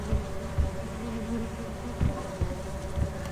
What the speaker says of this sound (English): I was trying to get the bees.